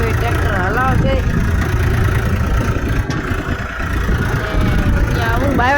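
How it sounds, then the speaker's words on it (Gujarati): A farm tractor runs on a field being readied for ploughing, its low, steady engine rumble continuing close by beneath people talking. "એ હવે ટ્રેક્ટર હલાવશે"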